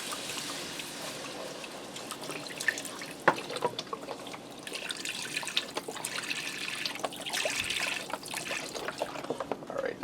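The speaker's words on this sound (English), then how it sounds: "I'm going to add in 3 cups of beef broth, and it's a 4-cup container, so I'm just going to eyeball it." Beef broth pours from a 4-cup container into a flour roux, a steady close liquid splash and trickle running throughout with a few clinks.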